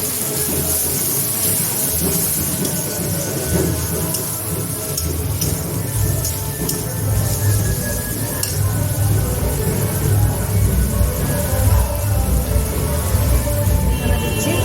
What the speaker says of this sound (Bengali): আদা রসুনের যে পেস্ট বানিয়েছি দিয়ে দিলাম। এর সাথে টমেটো ভাজা হয়ে যাবে।